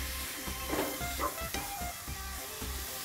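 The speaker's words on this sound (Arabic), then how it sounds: "راح نقلب،" A chicken shawarma biryani mixture, with spices and fat added, sizzles in a pan while a utensil turns it in a few soft, uneven strokes. The sound is close and steady, with no talking.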